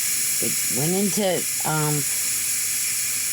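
A pressure cooker vents steam with a steady, loud hiss that runs the whole time, while a voice briefly speaks over it partway through.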